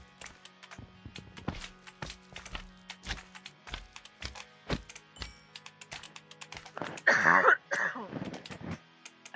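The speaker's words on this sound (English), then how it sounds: "I'll stop coughing in your ears now." Repeated throat clearing and coughing from a nearby voice, a burst of several harsh coughs near the end, with scattered knocks and clicks in between.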